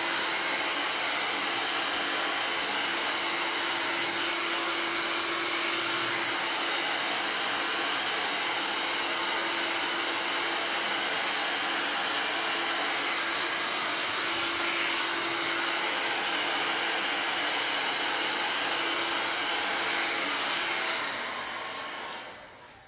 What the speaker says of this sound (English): Keep the hair dryer moving so there's don't accidentally burn anything or melt the vinyl.